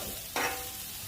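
Onions and jalapeño peppers sizzle on a flat top in a steady, close, even hiss, with a brief louder flare of crackle partway through.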